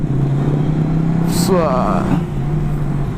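A 2019 Honda Goldwing Tour DCT motorcycle engine drones steadily at close range while riding, with a brief rise in pitch as it accelerates to overtake, under wind noise and a short burst of talk.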